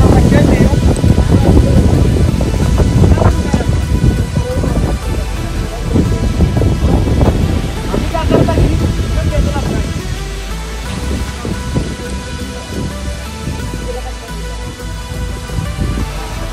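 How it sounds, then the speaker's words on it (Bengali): A thunderstorm with gusting wind and heavy rain at an eco-style resort in Sreemangal, Sylhet: a loud, dense roar of rain and rumbling thunder that fills the whole stretch, with voices faintly underneath. "বলতে না বলতেই বাতাস শুরু হয়ে গেছে।"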